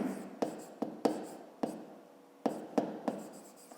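Pen writing a math answer by hand on paper, a series of quiet, close scratchy strokes and taps in irregular short bursts.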